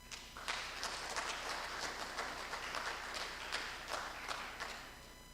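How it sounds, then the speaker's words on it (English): Audience applause following an introduction at a lecture on faith and the environment, a steady wash of clapping from a crowd that holds fairly even for several seconds. "Please give him a round of applause."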